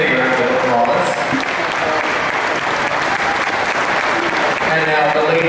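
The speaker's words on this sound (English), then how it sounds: "let's give the girls team a big round of applause" A school audience gives a sustained round of applause for a girls' cross country team at a state recognition event, with dense, even clapping filling the room from start to finish.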